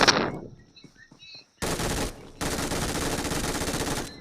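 Gunfire in a battle royale mobile game, with a sharp shot at the start, then quiet, then two loud sustained bursts of automatic fire, the second running on for nearly two seconds.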